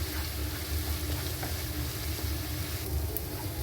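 Salted onions sauté in a pan for a spicy chicken dish, giving a steady, close-up sizzle that continues without a break and with no voices.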